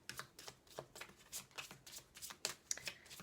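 Love oracle cards shuffled by hand, a close run of quick papery riffles and slaps in an uneven rhythm, quiet.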